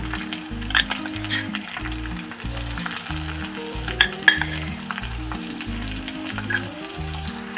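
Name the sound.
frying green chilies, curry leaves and crushed garlic in oil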